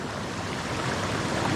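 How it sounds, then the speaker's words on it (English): Steady broadband rush of falling water at Stonewall Falls, a waterfall heard close by as a continuous wash with no voices. "you've got a waterfall behind you"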